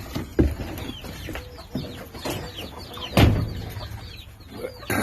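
Several chickens cluck and murmur close by, with a few louder squawks among the steady chatter of the flock.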